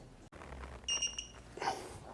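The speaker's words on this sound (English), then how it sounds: "Okay, so that beeped, and it should be torqued." An AC Delco torque adapter on a wrench beeps on reaching its set torque during KTM/Husky two-stroke crankshaft seal work: a short, fairly faint burst of high electronic beeps in a quiet workshop.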